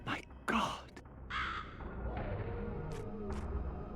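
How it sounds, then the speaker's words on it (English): Crows caw a few times in a video game's ruined sanctuary setting, harsh calls set against a low rumbling game background with occasional thuds. "Birds are doing okay, though."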